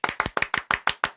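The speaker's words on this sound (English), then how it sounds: "And we got to get the clap again." Clapping sound effect on a talk show: seven sharp, evenly spaced claps in quick succession, loud and close, with no voices.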